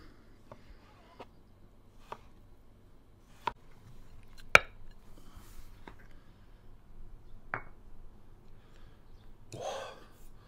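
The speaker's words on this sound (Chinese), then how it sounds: "咱们切一点刺身" Knife slicing yellowfin tuna into sashimi on a board: a series of sharp, isolated cuts spaced about a second apart, clear and close against a quiet room, with a soft rustle at the end.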